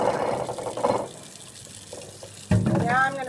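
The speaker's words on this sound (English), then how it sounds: "I'm going to turn some cold water on over here" Cold tap water runs over a wine bottle being prepared for cutting, a steady splashing stream that rises and falls, growing louder and more turbulent near the end, with a voice talking at points.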